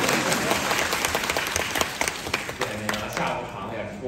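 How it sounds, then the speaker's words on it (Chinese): Audience applause at a Deyunshe crosstalk show in a Nanjing theatre, a dense wash of many clapping hands close by that thins out toward the end as a performer speaks. "谢谢大家伙儿这个掌声鼓励"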